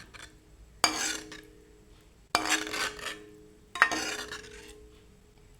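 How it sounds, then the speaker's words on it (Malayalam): A spoon stirs sago payasam in a metal pot after milk is added, three distinct bursts of scraping and clinking separated by quiet pauses, close and clear with no talk. "1/2 ലിറ്റർ പാലൊഴിച്ചു. നന്നായിട്ട് ഇളക്കാം."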